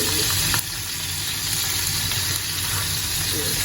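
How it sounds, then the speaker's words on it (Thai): Steady, loud sizzling of ground beef patties frying in a hot pan, a continuous crackling hiss with no talk over it. "นำชิ้นที่เหลือลงทอดต่อเลยค่ะ ตอนนี้กระทะก็เริ่มบางแล้วเนาะ"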